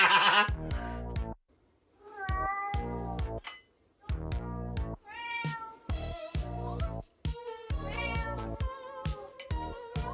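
A cat meows repeatedly in loud, close, drawn-out calls separated by short pauses, with faint clinks in between and no talking.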